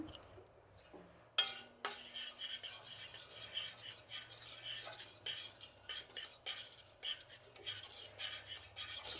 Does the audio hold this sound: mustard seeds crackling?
yes